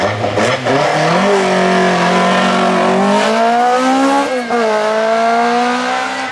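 An Opel Corsa Group A race car tackles the Glasbach hill climb at Bad Liebenstein, its engine howling loud and close, pitch climbing steadily with a brief dip at a gear change before pulling hard again.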